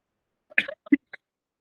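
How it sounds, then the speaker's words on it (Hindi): A short bout of coughing, two or three close, abrupt coughs in quick succession followed by a small throat sound, then silence. "मुझे थोड़ी खांसी हो रही है तो उसके लिए सॉरी।"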